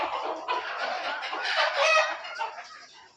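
Desi country chickens cluck and chatter continuously up close on a poultry farm, with overlapping calls and no pauses.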